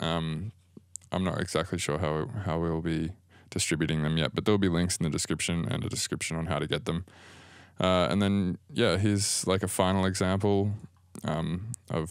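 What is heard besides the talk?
No distinct noise like a dog, phone or traffic.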